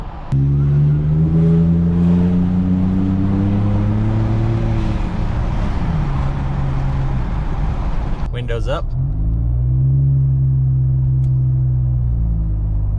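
From inside a moving Ford F-150 with the 3.5 EcoBoost and its windows up, a deep, moderately quiet exhaust rumble climbs in pitch, drops after a gear change, then builds again while someone speaks briefly over it.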